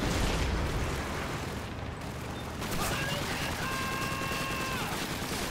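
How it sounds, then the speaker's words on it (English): Machine gun fire in the World War II shooter Call of Duty 2, set on a Russian battlefield, comes as a dense, continuous rattle of shots mixed with explosions, loud and sustained throughout. "I have a machine gun in front of me. I have a machine gun, that machine gun is crazy."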